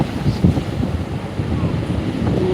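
Sea waves break and wash over a rocky beach at Pondicherry in daytime, a loud, continuous rushing roar mixed with heavy wind buffeting on the microphone.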